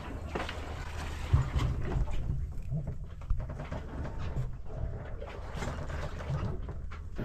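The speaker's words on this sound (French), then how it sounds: "On entend les moteurs, hein, on entend les machines." A sailboat's engine runs at sea during a passage from Kourou to Trinidad, a steady low droning rumble heard up close, with water and hull noise washing over it and no talk.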